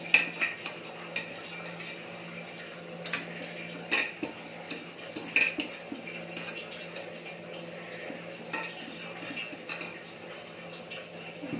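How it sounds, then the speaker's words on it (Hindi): Leftover rice is stirred and fried with cabbage in a pan: soft spatula scrapes and light metallic clinks sound over a faint background frying hiss, with a few sharper knocks early on. "इस चावल को हम अच्छे से पत्ता गोभी में मिला लेंगे अच्छे से भूंज लेंगे"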